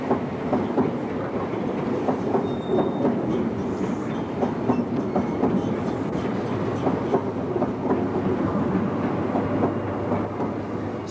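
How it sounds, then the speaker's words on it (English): An Intercity HST high-speed train arrives at Exeter station, its carriages rolling past with steady clickety-clack of wheels over rail joints and a low engine drone, loud and continuous throughout. "using Intercity's HSTs, one of which is seen arriving at the north end of the station"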